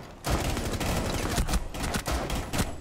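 Ela's elite gun in the video game Rainbow Six Siege fires in dense, continuous automatic bursts, loud and close, with brief pauses between long volleys.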